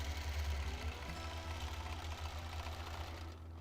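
A sewing machine hums steadily during free motion quilting, its needle running in a fast, continuous mechanical whir close by, fairly quiet and without talk.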